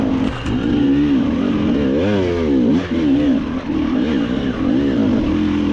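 Enduro motorcycles race through a narrow enduro section of a motocross track lap near Bohuslav, engines revving up and down in a continuous pulsing drone as bikes accelerate close by, with no talk.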